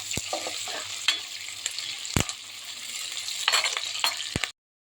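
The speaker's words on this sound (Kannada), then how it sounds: "ನೋಡಿ ಇವಾಗ ಸ್ವಲ್ಪ ಈರುಳ್ಳಿ ರೋಸ್ಟ್ ಆಯಿತು" Onions roasting in a pan for a pumpkin stir-fry, a steady close sizzle with intermittent scraping and clinks of stirring, ending abruptly.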